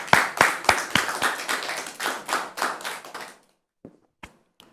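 Audience clapping to welcome a guest: a burst of close hand claps for about three seconds, then it cuts off into near-silence broken by a few scattered taps.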